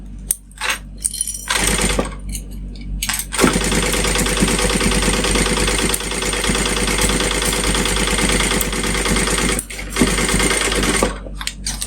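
A sewing machine runs steadily while stitching a fabric pouch with a quarter-inch seam, including back stitching, making a dense, loud mechanical rattle after a few short starts, with a brief pause near the end.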